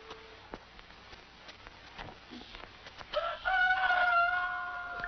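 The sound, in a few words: rooster crowing at dawn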